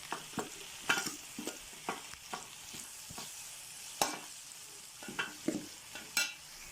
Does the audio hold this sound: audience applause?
no